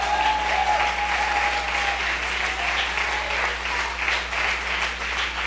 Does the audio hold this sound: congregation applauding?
yes